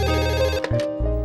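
A telephone rings as a call is placed, a loud electronic ringtone sounding alone with a brief break partway through before the tone resumes.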